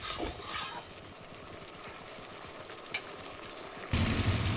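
Spice masala for a Bengali bottle gourd (lau) curry stirred and fried in a pan, a steady soft sizzle with scraping strokes, brief louder bursts near the start and a louder rush at the end, no talking.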